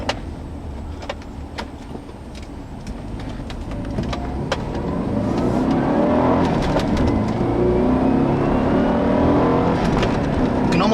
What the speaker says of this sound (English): This car makes that turbo whoosh whoosh sound when you shift the gears.